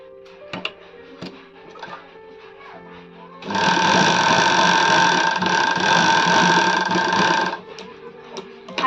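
Electric sewing machine running steadily for about four seconds while joining two pieces of a readymade sleeveless kurti, a close, loud mechanical whir with rapid stitching chatter, preceded and followed by quieter handling clicks.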